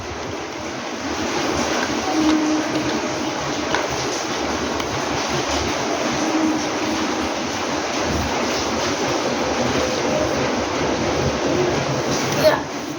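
An electric fan runs with a steady, fairly loud whooshing drone that continues unchanged throughout, turning a half-cut bottle in a water whirlpool science experiment.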